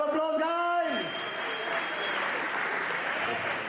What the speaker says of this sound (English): Let's give Cape Town a nice round of applause, guys.